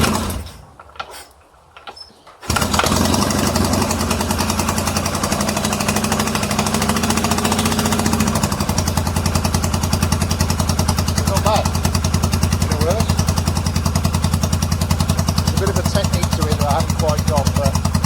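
A Yamaha XS650 motorcycle engine, just after a kick-start, settles into a loud, steady, rapid-firing idle close by, following a few seconds of quieter clunks and a brief voice.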